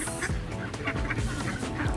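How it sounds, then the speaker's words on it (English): A crowd of ducks at a lake near Niagara Falls, at Dufferin Islands nature area, honk and quack together in a dense, overlapping chorus, close and fairly loud. "there we can see a lot of ducks"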